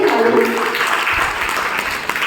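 Audience applause fills a hall at a Diwali festival ceremony honoring a Ramlila committee and its performers: dense, steady clapping from a crowd, sustained at an even loudness throughout.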